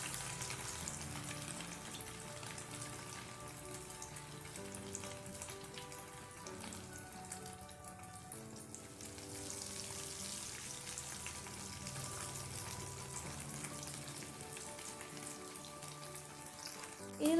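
Slices of bread fry in well-heated oil, producing a quiet, continuous crackling sizzle that holds steady and fairly faint throughout.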